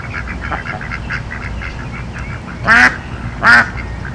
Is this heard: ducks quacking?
yes